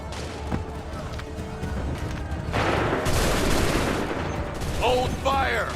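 Soldiers in Assassin's Creed III open fire with guns, a dense crackling fusillade that swells loud midway and keeps rattling, with shouted voices heard near the end.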